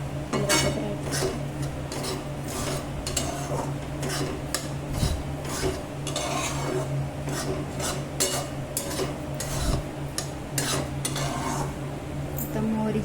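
Mustard dal dry-roasting in a pan for traditional mango pickle, stirred constantly with a metal spoon: steady scraping and clinking of utensil against pan, a continuous gritty rasp with sharp taps, close and fairly loud.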